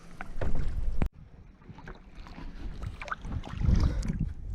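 Kayak paddles dip and pull through open water, a steady rhythm of close splashes and drips with light wind noise, one sharp knock partway through.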